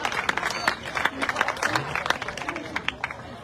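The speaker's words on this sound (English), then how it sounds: "So give them a big round of applause." Audience at a neighborhood awards ceremony claps for the musical entertainment, the individual claps fairly close and uneven, with a faint low tone and murmuring underneath.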